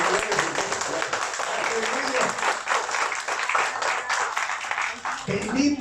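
A church congregation applauds, a dense, sustained wash of clapping across the room with voices mixed in throughout.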